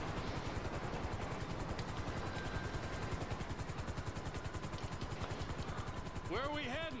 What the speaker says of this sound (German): Ach, da ist er ja schon, der Helikopter zum Rennen.